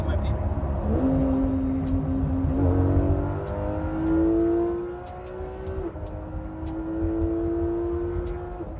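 A powerful car engine roars and revs steadily, pitch climbing through gear changes before dropping and rising again, loud and close with a rough, throaty tone.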